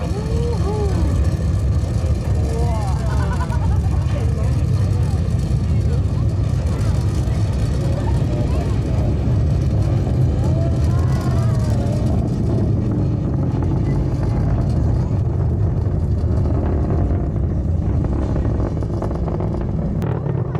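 A deep, continuous roar from a Falcon 9 rocket's nine Merlin engines at launch from Kennedy Space Center rumbles loudly and steadily throughout, with people's voices faintly audible underneath.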